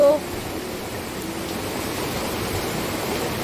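Steady rain falls outdoors near a mango tree, a continuous even hiss that fills the whole stretch without pause.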